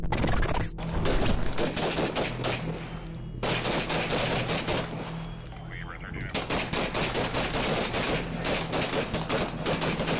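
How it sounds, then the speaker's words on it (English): Loud, rapid bursts of gunfire recorded on a police body camera crack out in repeated volleys throughout, with shouting voices partly heard between the shots. "This body camera footage captured a portion of the shooting."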